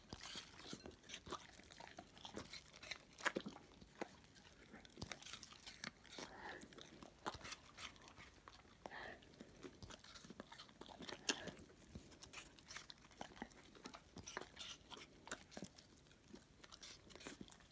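An animal chews apples close by, with repeated wet, crunchy bites and munching going on steadily and fairly faintly throughout.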